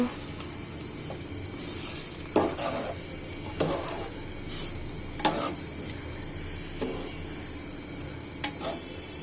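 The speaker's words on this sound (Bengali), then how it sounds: "নাড়াচাড়া করে দিব" Taro stolons and lentils being stirred in a curry pan, with a steady background hiss and a few separate spoon-on-pan scrapes and clinks at irregular intervals, close and moderately loud.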